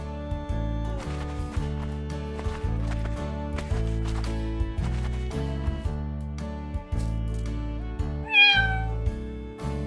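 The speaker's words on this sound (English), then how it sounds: "Cat." A single domestic cat meow, clear and close, rises near the end over steady children's background music.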